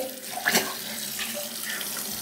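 Water runs steadily from a tap into a sink, a continuous broadband splashing with a brief louder gush near the start and no speech over it.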